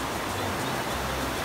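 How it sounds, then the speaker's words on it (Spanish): Waterfall near the hot springs at Santa Rosa de Cabal, Colombia, giving a steady, dense rush of falling water that fills the whole clip without a break, with no talk over it. "Esa cascada"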